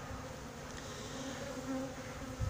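Honeybees buzz steadily in an open beehive as frames of capped sugar-fed stores are inspected, a dense, continuous close-up hum with a slight low thump near the end.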